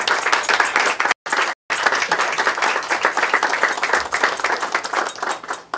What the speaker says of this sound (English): a round of applause for all of them